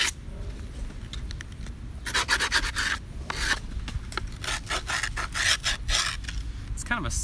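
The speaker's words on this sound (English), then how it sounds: "I'm going to scrape this." A scraper drawn repeatedly across a board deck, close up, making rough, rasping strokes in an uneven rhythm with short pauses between passes, heard alone without talk.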